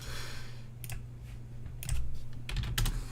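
Keys clatter on a computer keyboard during an online game session, a few quick bursts of close clicking over a low steady hum, with no talk.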